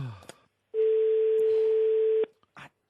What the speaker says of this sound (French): Ça sonne chez Pauline.